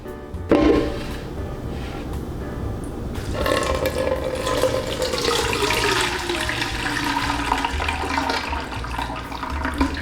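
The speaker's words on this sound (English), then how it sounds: "Now I'm gonna strain out all the solids." Mulled wine being strained slowly through cheesecloth into a pitcher, a steady close pour of liquid running and splashing for most of the stretch, with no talking.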